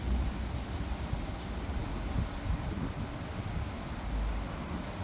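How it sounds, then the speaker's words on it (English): Broad, steady wind rushes outdoors, with low rumbling gusts that swell around the middle and near the end. It stays loud and continuous throughout, and no voices are heard. "Wind is picking up."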